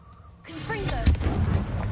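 In the Hogwarts Legacy video game, a voice calls out just before the Confringo blasting spell lands as a loud, booming explosive burst followed by a rumbling tail.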